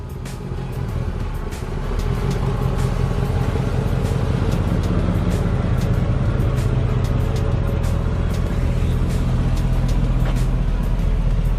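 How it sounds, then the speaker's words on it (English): A 412,000-mile Mercedes E55 AMG engine idles steadily nearby in a garage, a continuous low rumble with a faint rapid ticking, loud and unbroken. "we just pulled the car in the garage. It did start."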